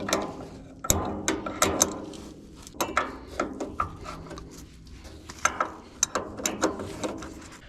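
Sharp ratcheting clicks come in quick bursts while a part is unscrewed on a cheap skid steer, close and loud with short pauses between runs of turns.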